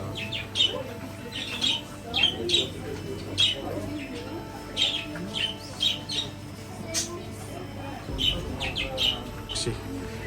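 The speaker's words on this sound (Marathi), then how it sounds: "आणि हा आपल्याकडचा पोपट" Indian parrots in a climate-controlled pet shop in Norway give repeated sharp squawks and chirps in bursts throughout, moderately near, over a steady low room hum with faint background voices.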